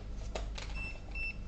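A multimeter in continuity mode, probing a Toshiba C70-C laptop board, gives two short, clear beeps close by, one after another, over quiet background.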